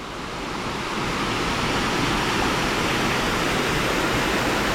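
Toonigh Falls, a waterfall in Woodstock, Georgia, pours in a loud, steady broadband rush, heard up close with no gaps or voices.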